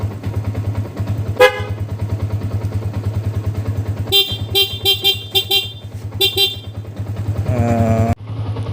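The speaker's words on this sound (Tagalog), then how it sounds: "stock horn" A stock horn on a Sniper 150 motorcycle gives a short beep, then a quick cluster of rapid honks and one longer toot, all heard up close over a constant low engine hum.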